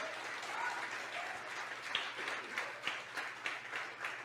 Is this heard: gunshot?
no